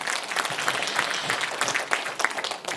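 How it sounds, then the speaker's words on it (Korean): An audience applauds at a workshop event, dense steady clapping of moderate loudness from a crowded room, sustained without talk. "박수 한번 쳐주세요."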